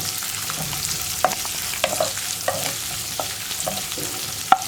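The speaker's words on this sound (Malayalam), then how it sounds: "ഇതെല്ലാം ചേർത്ത് സവോള ഒന്ന് ട്രാൻസ്പെറൻ്റായി വരുന്നത് വരെ ഇളക്കി കൊടുക്കുക." Chopped onions stirred in a hot pan for a lentil and bean curry, a steady close sizzle broken by sharp scraping clicks of a spoon against the pan, with one louder knock near the end.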